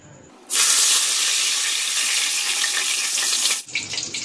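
Curry leaves drop into hot oil for a snack mix and burst into a loud, steady hiss and sizzle that holds for about three seconds before easing to softer crackling.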